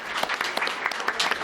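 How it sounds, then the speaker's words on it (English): A crowd at a community talk on drought and water demand breaks into a round of applause, many hands clapping together in a dense, steady patter that carries on without a break and without any voices over it. "If I can get a round of applause for those folks."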